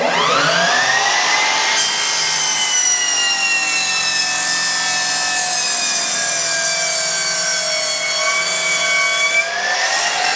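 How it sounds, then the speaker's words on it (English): A handsaw cuts a mitre through MDF skirting board in long, steady rasping strokes, loud and close, running continuously for most of the stretch before stopping near the end. "So I've got to cut a mitre on the other end."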